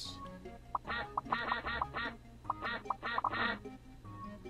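Cartoon ducks quacking in the Teach Your Monster to Read video game, a lively run of rapid, fairly close quacks in two bursts over faint game background.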